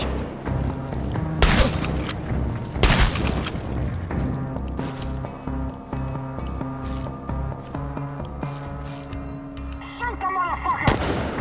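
Gunfire in the video game Chernobylite, several sharp loud shots and bursts over a tense music score, with scattered impacts and a final crack near the end.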